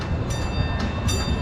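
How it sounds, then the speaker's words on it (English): Amusement park train at Cedar Point in Sandusky, Ohio, rumbling past nearby with a steady, loud rolling clatter and short bursts of high hiss, no clear horn blast standing out. "It's honking its horn, waiting for it to pass by right now."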